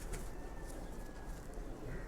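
Domestic pigeon kept at home cooing softly a few times against a steady background hiss, faint and close, with a person talking nearby.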